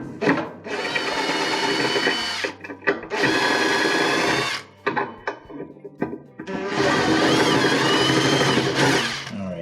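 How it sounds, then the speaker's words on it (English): A power screwdriver whirs in loud bursts while backing out the lid switch screws on a Whirlpool top-load washer, three long runs of motor whine separated by short pauses and clicks. "there are 2 screws that we can take out that hold the lid switch in place"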